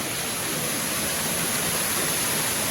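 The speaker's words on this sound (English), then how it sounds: "I love a good waterfall." Steady roaring rush of a waterfall at the San Diego Zoo, loud and close, a dense unbroken wash of falling water with no voices over it.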